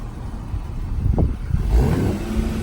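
A Nissan 370Z with a new exhaust revs up close, with two quick rising engine pulls over a steady idle rumble.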